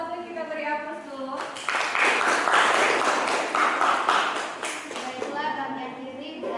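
A class bursts into sustained group applause for the first group's slogan, a few seconds of dense clapping after a speaker's voice and before speech resumes.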